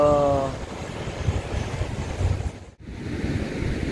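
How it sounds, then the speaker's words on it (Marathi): Sea waves roll onto the shore at Tamboli with a steady, loud surf roar and wind buffeting the microphone, briefly dipping to near silence before the wash returns. "तांबोळीचं समुद्र बघा"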